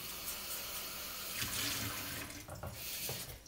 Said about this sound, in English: And I rinse out the water